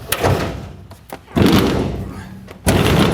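A cabinet is shoved and wedged into place during an installation, giving a few loud, close thuds and scraping bumps separated by short pauses, with people talking around it.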